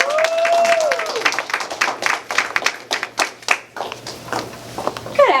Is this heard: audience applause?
yes